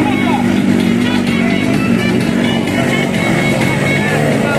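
Motorcycles racing in Tocache, a loud, continuous engine roar filling the scene under an excited commentator's fast speech, steady and close with no breaks.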